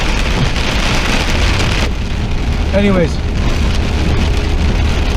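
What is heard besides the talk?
heavy rain falling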